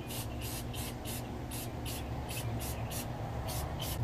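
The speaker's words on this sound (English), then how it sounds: "I will spray in multiple coats" Spray paint hisses in a steady run of short bursts, about a dozen quick pulses, close up, as coats go onto a custom pop vinyl figure outdoors.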